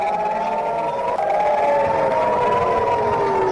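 Emergency siren wailing after an Iranian missile attack, a loud steady rising and falling tone that carries through the whole stretch over a constant roar of background noise, with no voices.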